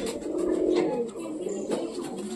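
A sick white Lakka pigeon coos softly at close range, a low throaty burbling that rises and falls in short phrases, with faint human voice in the background.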